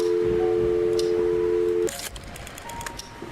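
A steady electronic telephone dial tone hums in the PC game Scratches: Director's Cut, then cuts off, followed by a few short, soft beeps like keypad presses.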